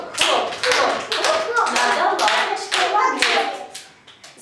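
Hands clap along to a children's rhyme, a series of sharp, close claps in a quick rhythm, mixed with a voice speaking the rhyme and imitating the claps.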